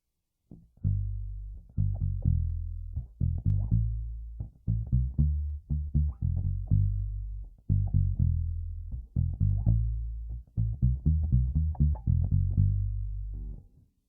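Palm-muted electric guitar, an Ibanez Promethean P5110, plays a walking line of short, thumpy low notes with a round, upright-bass-like tone, steady and alone for several bars.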